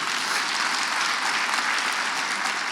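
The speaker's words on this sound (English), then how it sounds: "that deserves a round of applause." A large audience at a county address claps steadily, dense continuous applause at a strong even level for the whole stretch, with no voices standing out.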